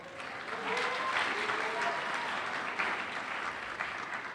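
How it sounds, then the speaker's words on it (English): Steady audience applause at a conference opening session, a sustained wash of many hands clapping at moderate distance, fairly soft, with faint voices underneath. "Maybe we should all be getting the applause"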